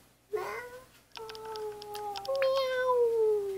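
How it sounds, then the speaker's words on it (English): A cat meows several times up close, drawn-out tonal cries with rising and falling pitch, the later calls longer and louder. "What does the cat say?"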